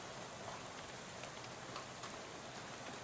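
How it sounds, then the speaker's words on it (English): Steady, even rainfall in the video game Shadows Over Loathing, a dense hiss of drops on surfaces with no pauses, heard alone. "the rain comes along and ruins it"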